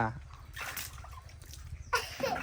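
Water splashes and sloshes in a bath in short bursts, with a child and an adult speaking over the splashing.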